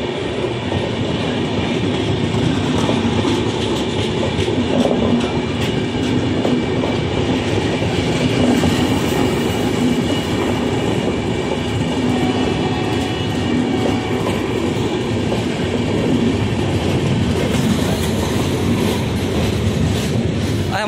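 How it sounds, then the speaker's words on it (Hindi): The Patna-Kota Superfast Express rumbles past at Gudla Junction, a loud, continuous roar of rail wagons with rhythmic wheel clatter and faint squeal, heard close throughout. "ये पटना कोटा सुपरफास्ट एक्सप्रेस है और गुड़ला जंक्शन पे क्रॉस हो रही है हमसे।"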